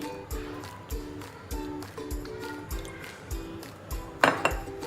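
A metal spoon clinks against a bowl again and again in a steady rhythm as oil is added for chicken dum biryani. The taps are close and clear, and one louder clatter comes near the end. No voices.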